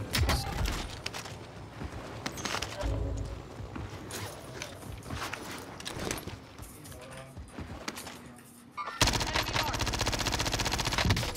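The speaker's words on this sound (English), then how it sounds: "is somebody shooting us?" Rapid automatic gunfire in a Call of Duty Cold War match, bursts of shots repeating through the whole stretch, growing louder and denser near the end, with faint player voices beneath.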